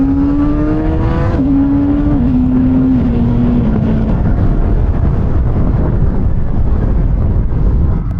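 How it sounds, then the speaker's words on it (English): A Kove 450 RR motorcycle accelerates hard, its engine note rising and then dropping in quick steps as the quick shifter changes gears, loud and close over heavy wind roar. "Let's speed up to demonstrate the quick shifter."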